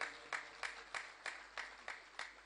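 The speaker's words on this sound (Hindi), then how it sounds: "इनके लिए भी जोरदार तालियां" Audience at a saints' gathering during a silver jubilee festival claps in a steady, even rhythm, with roughly eight faint, evenly spaced claps heard without any talk.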